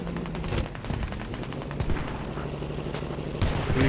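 An RPG rocket strikes the top of a BMP armored vehicle in an infantry battle video game, a booming impact buried in dense, continuous gunfire and explosions with no single blast standing out clearly.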